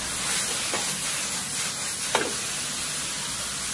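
Tofu skin and sliced screw peppers stir-fried over high heat in a wok, giving a steady soft sizzle and hiss with a couple of brief scraping strokes, close and fairly quiet, with no talking.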